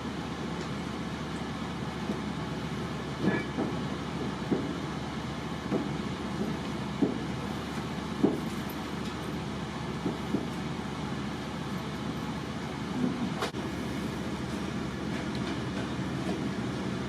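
The El Chepe passenger train pulls out of Los Mochis, Mexico, behind Ferromex locomotives, heard from inside as a steady low rumble with faint rhythmic clicks of wheels over rail joints and occasional creaks.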